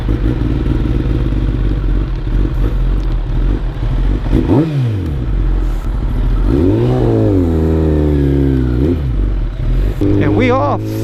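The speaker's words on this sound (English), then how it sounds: "So we're gonna go for a ride and see what the bike thinks about it." A 2020 Harley-Davidson Iron 883 Sportster rumbles close by with a deep idle, then revs several times and pulls away, its pitch rising and falling through the gears; a person talks over it.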